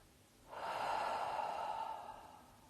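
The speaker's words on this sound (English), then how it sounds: "Take a deep breath." One long, deep exhale, close and breathy, swells and then slowly fades in a quiet space.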